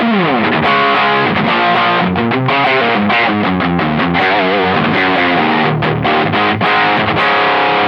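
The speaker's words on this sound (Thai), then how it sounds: "เสียงแตกของเฟนเดอร" An electric guitar through a Kemper Profile Player plays a lively run of notes through warm, gritty Fender-style overdrive, loud and continuous with no voices.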